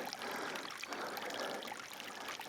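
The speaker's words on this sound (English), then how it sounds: "Got to watch where the water's running under here." Meltwater running beneath snow patches on a foggy Mount Rainier trail near Crystal Lakes, a steady close trickling and rushing wash that holds level for the whole stretch with no voices.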